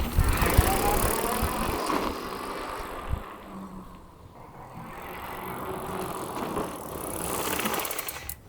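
A Super 73 electric bike is ridden outdoors, giving a steady whirring roll with tyre and road noise that swells and fades, plus a few light rattles and clicks along the way.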